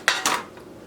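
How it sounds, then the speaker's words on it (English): Metal tart pans clatter together twice in quick succession, a close, bright knock followed by a short jangle, then a faint tap as they settle; no one talks. "Okay, so I have these pans right here."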